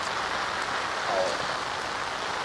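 Steady rain pours down on surfaces outdoors in a heavy rainstorm, making a continuous dense hiss with no let-up at an even, moderately loud level. No one speaks.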